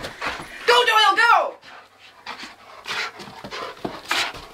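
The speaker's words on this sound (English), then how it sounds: "Happiest dog ever." An excited dog pants and whimpers in quick bursts, loudest near the start, while people cheer and shout nearby during a play session with a camel toy.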